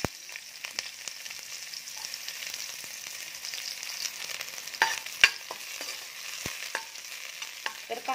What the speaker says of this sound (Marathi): तेल गरम झाले की त्यामध्ये टाकायचा आहे कांदा.